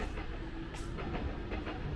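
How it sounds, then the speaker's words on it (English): An Amsterdam Metro train rumbles past nearby in a low steady roar, with faint rhythmic clacking over it. "I'm not sure if you can hear the train sounds behind my back"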